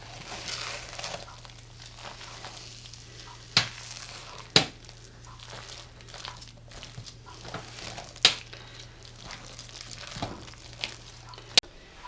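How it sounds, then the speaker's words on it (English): Rebatched old soap bars melted in a pot are stirred with occasional sharp clinks of the utensil against the metal, spaced a few seconds apart over a soft, steady background hum. "We're going to give this a stir, mix it around."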